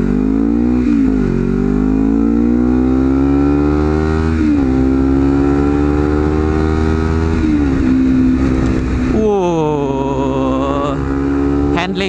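Modified Honda CBR 250 RR motorcycle engine on a test ride, loud and close, revving up through the gears in repeated rising sweeps with brief drops between shifts, one sharp high rev near the end.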